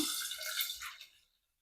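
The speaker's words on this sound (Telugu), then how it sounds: "గ్లాసున్నర నీళ్ళు అయితే కొలత తీసుకొని పోస్తున్నాను" A measured glass and a half of water poured into a cooking pot while making food for babies, a brief splashing trickle that thins out and falls silent after about a second.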